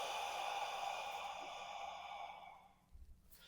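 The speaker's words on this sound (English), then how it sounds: "Breathe in, breathe out." A single long, forceful exhale during a thoracic rotation breathing exercise, close and steady for about two and a half seconds before trailing off, followed by a brief soft breath.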